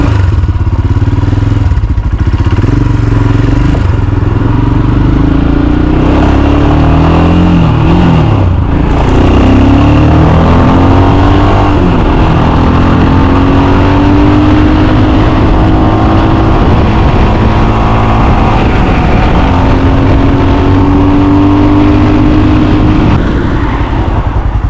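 A Royal Enfield Himalayan with a big bore kit making about 40 hp roars loudly on the road. Engine note rises and falls through gear changes over steady heavy wind buffeting, with no audible talk.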